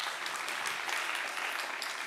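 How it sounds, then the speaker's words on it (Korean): Applause from a church seminar audience of about a hundred people, a dense steady patter of many hands clapping for the full stretch at moderate loudness, with no talk over it. "뒤에 100명 박수치고."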